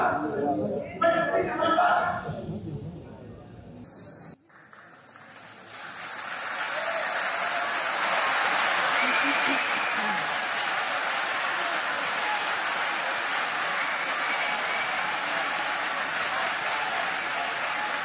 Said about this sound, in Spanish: los presentes entonces y también su partido, Fuerza Popular, la aplauden durante varios segundos